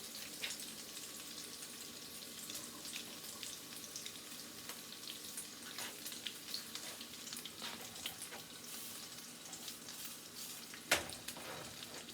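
A shrimp egg foo young patty fries in a pan, giving a steady, even sizzle with fine crackling throughout and one sharper pop near the end. There is no talk.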